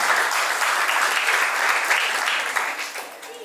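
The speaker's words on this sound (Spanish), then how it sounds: "Vamos a aplaudir también." Wedding guests break into applause during the ceremony vows, a dense burst of clapping that holds steady and then tapers off near the end.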